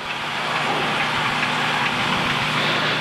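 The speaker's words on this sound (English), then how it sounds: "as we taxi out here, I'll go through a couple of engine checks." Engine of an Extra 300 light aircraft idling while it taxis, a steady, loud, continuous drone with a broad hiss and no voices.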